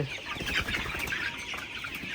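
Colour Bat broiler chickens, 32 days old and from the Kazi Quality King line, cluck and murmur together in a flock, giving a steady close chorus of soft calls with faint wing rustles.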